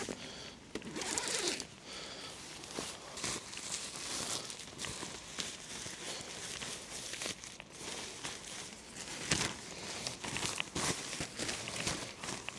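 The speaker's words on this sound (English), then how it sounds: "What I'll do is I'll unzip it now and I'll show you that." Zipper on a tent's mesh inner and outer layers being drawn all the way around, a series of quiet close rasping pulls with fabric rustling between them, no talk.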